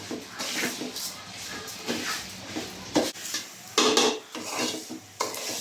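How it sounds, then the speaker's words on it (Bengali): A ready spice mix stirs and fries in a kadai, with repeated scraping and clattering strokes of a spoon against the metal pan in irregular bursts over a light sizzle, and a voice speaks intermittently. "তো রেডি মিক্সটা ঢেলে দিয়ে এইভাবে কিছু সময় হালকা আছে নেড়ে দিতে হবে।"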